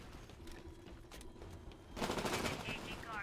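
Rapid gunfire bursts in the video game Titanfall, an Attrition match, rattle in from a distance and grow louder and denser toward the end, with players talking faintly underneath.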